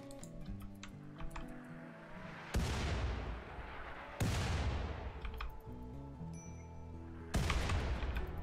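Mortar shells fired in Rimworld land in three loud, sharp bursts, each decaying into a rumbling tail, over a steady ticking game soundtrack.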